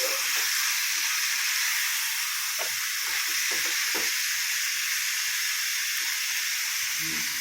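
Chicken pieces for shawarma fry in a hot pan with a loud, steady sizzling hiss. A few soft clinks and stirring scrapes sound close by, with no talking.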